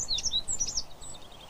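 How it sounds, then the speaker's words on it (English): Wren alarm calls in a British garden: a rapid series of sharp, high chirps in quick bursts, fairly close and clear over a faint low background hum, tailing off toward the end. "The wren's alarm call is also heard frequently"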